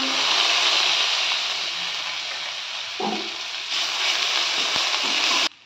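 Ground garlic paste frying in hot mustard oil with whole cumin and green chillies, a steady close hiss and sizzle that runs without a break and cuts off abruptly near the end.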